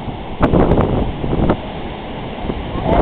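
Rough ocean surf at the Orange Beach jetties, a close, continuous wash of waves mixed with heavy wind buffeting on the microphone, with intermittent gusts and swells.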